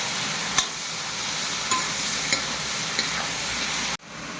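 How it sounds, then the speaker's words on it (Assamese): Vegetables sizzle in a pan with a steady, close frying hiss, broken by a few sharp stirring clicks, before the sound cuts off abruptly near the end. "চব্জি দিলোঁ, এতিয়া চব্জি ভাজোঁ"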